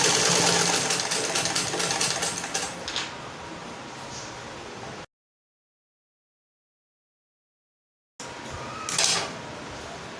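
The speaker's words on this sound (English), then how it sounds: "I'll fold my seam first and fold over again and sew." Sewing machine running along a double-folded fabric seam, a steady mechanical whirr that slows and fades, then a gap of silence before a short burst of stitching and a clack.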